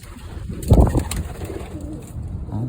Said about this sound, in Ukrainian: Голуби сидять.